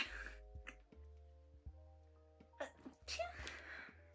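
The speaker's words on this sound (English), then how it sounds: "Every time I sneeze like that, someone's like, "You have a fake sneeze."" A deliberately exaggerated sneeze bursts out twice over a steady low hum, loud and close, with breathy intakes between.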